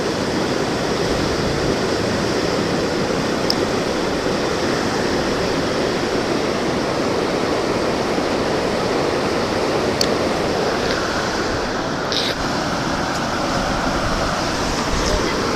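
Floodwater pours through the opened sluices of Mettur dam, a loud, steady broadband roar of rushing water and spray that carries through the whole stretch, with wind buffeting the microphone.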